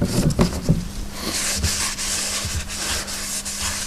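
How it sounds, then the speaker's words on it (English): Brake cleaner hisses steadily from an aerosol can onto the surface of a new brake drum fitted to its original hub, a continuous close spray with brief rubbing and clanks at the start. "let's now just clean the surface of the drum"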